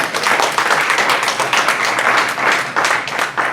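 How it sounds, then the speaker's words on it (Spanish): Church congregation applauding during a Spanish-language sermon, a dense, steady wash of many hands clapping that fills the whole moment at a consistent loud level. "¿Le puede dar un aplauso al Señor?"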